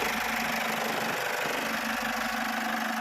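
An Isuzu D-Max 1.9 diesel pickup engine idles with a steady, low rumble at close range, a constant hum and faint mechanical vibration, no voices.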